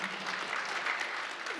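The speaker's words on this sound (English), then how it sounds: "You've started the applause" A symposium audience applauds at the end of a panel discussion, with even, moderately distant clapping filling the room without pause.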